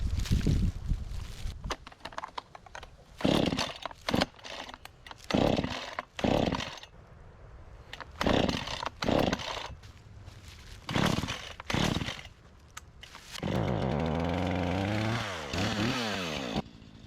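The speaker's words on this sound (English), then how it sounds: "I'm gonna make some quick progress with the chainsaw." A chainsaw cutting a trail through woods revs in repeated short bursts with pauses between, then settles into a sustained, wavering roar near the end.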